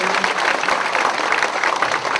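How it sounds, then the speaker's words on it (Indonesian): Audience applause at a Buddhist dhamma talk, with a steady, dense clatter of many hands clapping at moderate distance and sustained evenly for a couple of seconds. "sekali lagi tepuk tangan yang meriah untuk yang bertiga luar biasa pada hari ini."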